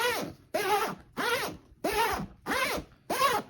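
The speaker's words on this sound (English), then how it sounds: "There's some zipper ASMR for you." Zipper on a recycled firefighter bag pulled open and shut six times in a steady rhythm, each smooth rasping stroke close and clear, separated by brief pauses, with no talking.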